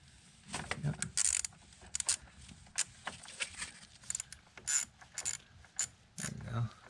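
Ratcheting wrench clicks in short bursts as a nut is loosened on a Mazda during maintenance, close and fairly loud with brief pauses between strokes.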